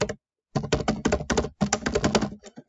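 Quick bursts of typing on a computer keyboard, close and clear, in several rapid runs of key clicks separated by a brief pause.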